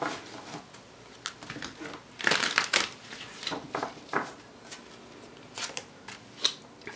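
Papery riffling and soft slaps of tarot cards being shuffled by hand, several quick bursts close up, no speech.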